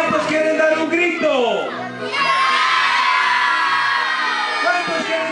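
A crowd of children shouts and cheers loudly and continuously, the excited yelling swelling after a brief dip, at a school event.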